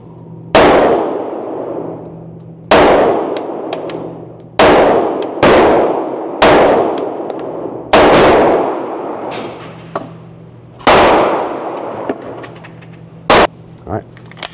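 A CZ Shadow 2 pistol fires seven loud, sharp shots at an outdoor range, spaced irregularly about one to two seconds apart, each with a ringing decay and a low hum underneath.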